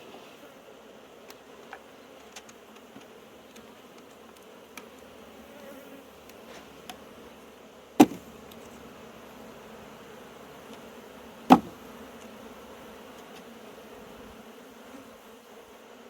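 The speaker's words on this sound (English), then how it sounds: "Got a ton of bees over here" Honeybees from an open hive hum in a low, steady drone through the whole stretch, with two sharp knocks standing out near the middle.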